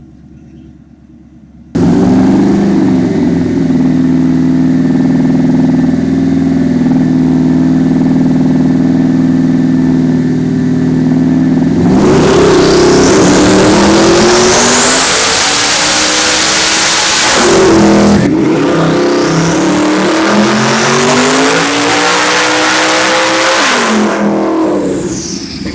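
A tuned, boosted street car runs its first pull on a dyno. The engine idles steadily, then revs loudly and rises in pitch through a long sustained pull, drops briefly on a shift, and climbs again.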